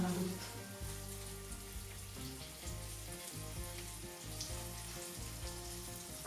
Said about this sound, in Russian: Крышку не закрываю, жарим рыбу.